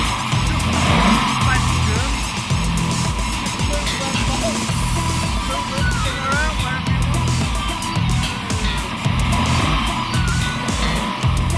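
Race-spec Golden Wonder Rover SD1 rally car at the Fleetwood Festival of Transport, its engine roaring loudly and steadily up close with rhythmic revving and tyre noise, voices talking faintly underneath.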